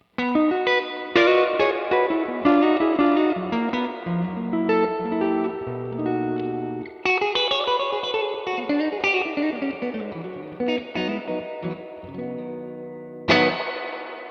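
Electric guitar chords and single notes through a Universal Audio reverb pedal on its smoother Silverface-based model ring out with a lush reverb tail, loud and continuous, ending on a strummed chord.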